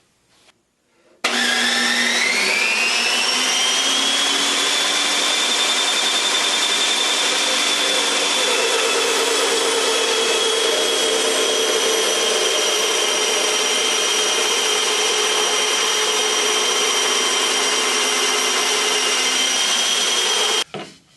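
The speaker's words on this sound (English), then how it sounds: "I've trimmed the boards down" A power saw trims wooden boards for a six-bottle wine rack, running as one long steady whine of about twenty seconds that starts abruptly and stops abruptly, loud and close, with no talk.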